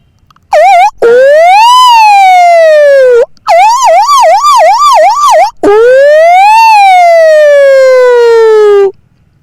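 A voice mimics a police siren, rising and falling wails with a rapid warbling section in the middle, loud and close with brief pauses between phrases.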